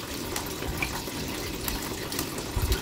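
Running water rinsing washed sweet potatoes one by one, a steady hissing stream with occasional splashes and soft knocks, close and continuous without talk.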